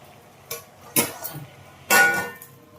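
A lid set onto a metal cooking pot of country chicken curry after tomato goes in, a few sharp metallic clinks and clatters close by, with the last and loudest knock near the end.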